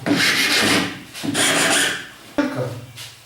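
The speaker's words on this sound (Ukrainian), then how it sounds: "розгладимо напилком" Hand file smoothing a wooden piece, several long rasping strokes back and forth, close and steady with short pauses between them, no voices.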